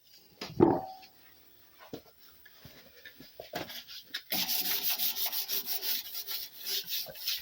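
The tailgate of a black Peugeot 306 is hand-sanded for painting: a sharp knock, then quiet rubbing, and finally a steady run of rhythmic rasping strokes, close and fairly loud, with no voices.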